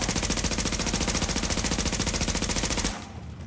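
Submachine gun firing in a shooter video game, a rapid unbroken automatic burst lasting nearly three seconds, loud and close, then cutting off into quieter game ambience.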